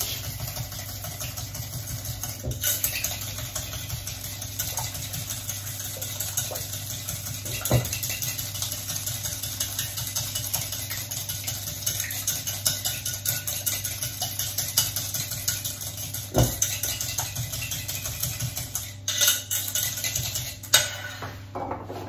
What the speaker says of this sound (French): Et je fais blanchir à la cuillère magique.